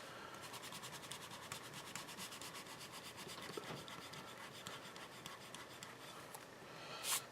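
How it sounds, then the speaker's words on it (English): Back eraser of a mechanical pencil rubbing steadily across paper for several seconds, a close, continuous scratchy friction with a brief louder burst near the end, no voices. "let's see how this back eraser erases"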